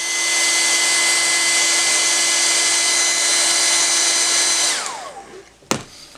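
A hair dryer blows in a loud, steady whine over a freshly glazed painting, then switches off and winds down, followed by a single sharp knock.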